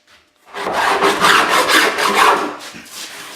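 A file rasps along the cut edge of a kitchen sink cutout in a benchtop, making a close, steady stretch of gritty back-and-forth strokes lasting a couple of seconds.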